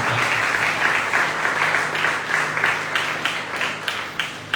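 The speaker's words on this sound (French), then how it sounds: "Est-ce que tu peux encore acclamer très fort ici?" A church congregation applauds loudly and continuously, a dense wash of clapping from many hands that stays strong throughout with faint cheering mixed in.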